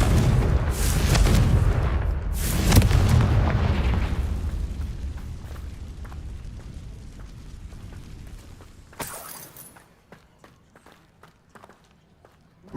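A fire spell explodes in the Hogwarts Legacy game, a deep rumbling boom that swells early on and slowly fades, followed by a sharp crack and scattered light footsteps.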